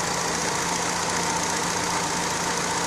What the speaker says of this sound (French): le moteur tourne rond, nickel, il cafouille pas.